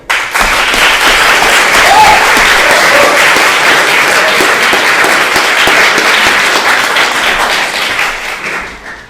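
Sustained audience applause fills a university debate contest hall, loud and dense clapping with a few faint voices underneath, tapering off toward the end.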